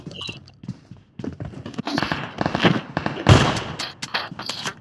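Rapid, irregular gunshots from the PUBG Mobile video game crack and pop in uneven bursts, some single shots and some quick strings, with a brief louder volley near the middle.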